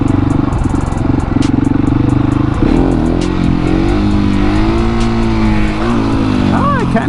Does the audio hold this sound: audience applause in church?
no